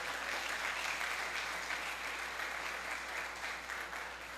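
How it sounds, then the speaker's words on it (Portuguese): Congregation applauding in a church during a sermon, a continuous even patter of many hands clapping, fairly faint and distant, with no talking over it. "Quem concorda com isso, dê um aplauso ao Senhor."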